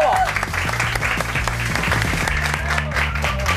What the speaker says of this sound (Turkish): Kızlarımızı alkışlıyoruz.